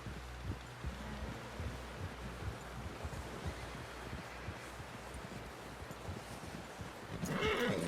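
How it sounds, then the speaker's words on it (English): A horse in the video game Red Dead Redemption 2 snorts and whinnies amid rhythmic hoof clops and rustling, fairly quiet and steady, with a louder burst near the end. "Someone help John down off this horse."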